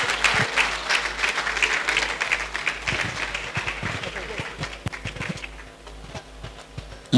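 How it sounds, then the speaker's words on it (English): A hall audience at a senator's roundtable event gives a sustained round of applause after an address, dense steady clapping that thins toward the end. "can you give him another round of applause?"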